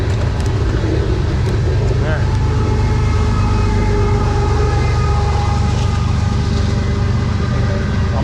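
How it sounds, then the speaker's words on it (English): A long train rolling past close by while a cyclist rides alongside, a loud continuous rumble and rattle of rail cars with a steady hum, a voice talking over the noise. "I'm riding next to the train,"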